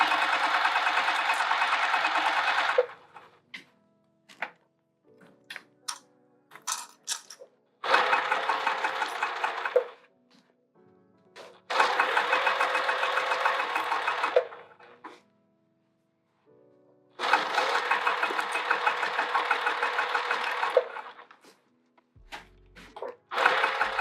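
A sewing machine stitches a bucket tote bag in several long bursts of fast, steady whirring, each a few seconds long and separated by short pauses and faint clicks.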